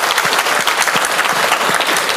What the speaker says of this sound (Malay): kita berikan tepukan pada beliau, tuan dan puan-puan.